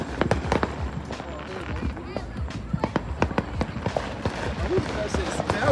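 Fireworks and firecrackers bang outdoors in a city neighborhood during a street fireworks battle, a rapid irregular series of sharp cracks and pops, some close and loud, others farther off, with people shouting and talking between the blasts.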